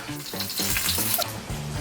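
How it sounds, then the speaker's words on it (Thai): Steamed hoi jo rolls frying in a small amount of oil in a pot, a loud bubbling sizzle with bursts of crackle and stirring clatter throughout. "ต่อไปก็จะเอาไปทอดนะคะ"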